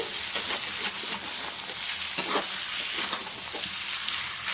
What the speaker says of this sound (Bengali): দেখো আবার ভাজা ভাজা হয়ে গেছে